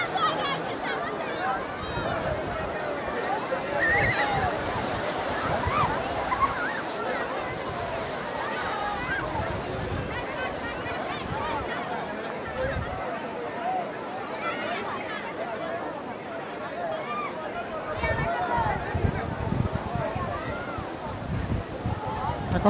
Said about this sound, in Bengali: এখন সমুদ্রে পুরা জোয়ার